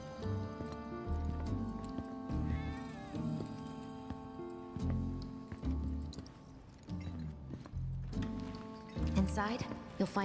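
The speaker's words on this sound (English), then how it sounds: "Go on, pet the cat. Come on, can we pet the cat?" Cat in the Final Fantasy VII Remake video game meows several times in a row, drawn-out and whiny, while game sounds play and a voice talks alongside.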